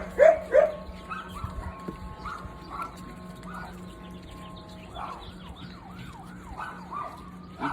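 A wailing emergency-vehicle siren rises and falls at a distance, steady through the middle and sweeping more strongly toward the end, while a dog barks sharply nearby at the start.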